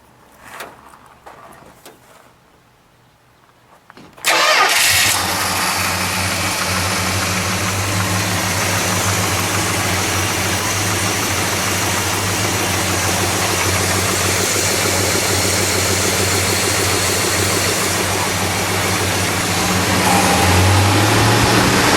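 A 1964 Plymouth Savoy with a 426 Street Wedge V8 cranks and fires after a few quiet seconds, then settles into a loud, steady, deep rumbling idle that continues to the end.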